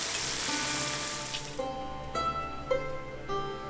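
Grilled offal horumon-yaki sizzles and crackles steadily at close range, a constant bright frying hiss with occasional faint clinks over it.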